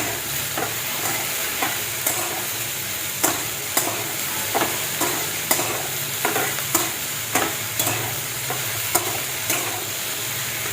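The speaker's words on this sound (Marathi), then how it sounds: "आता परतून घेते तेलामध्ये ही पटकन." Whole okra stir-fried in hot oil, a steady close sizzle with repeated sharp scrapes of a spatula against the pan, no voices.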